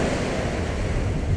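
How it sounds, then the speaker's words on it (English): Ocean waves wash onto a beach close by, a continuous rushing surf mixed with wind buffeting, with no voices over it. "The waves are like right there, so I'll try to talk a little bit louder."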